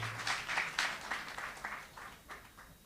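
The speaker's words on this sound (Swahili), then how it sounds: "Makofi kwa wachungaji jameni." A church congregation at a wedding applauds the pastors, producing soft, fairly distant clapping that swells early and then gradually fades.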